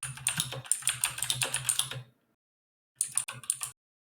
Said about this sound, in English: your keyboard is so loud